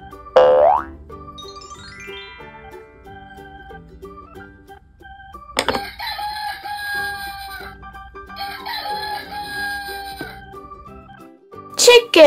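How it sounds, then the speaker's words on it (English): A rooster crows twice in a row, each call long and drawn out, clear and fairly loud, with a short springy boing-like effect at the start and brief sounds near the end. "Chicken."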